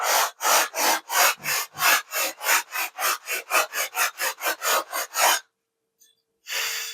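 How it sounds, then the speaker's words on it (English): Steady back-and-forth sanding strokes rasp along a wooden leading edge of a giant-scale P-47 Razorback model, clearing excess glue; about twenty close, rhythmic scrubs that quicken before a pause and a final stroke. "just pretty much sanding the leading edge here, just to get all that excess glue"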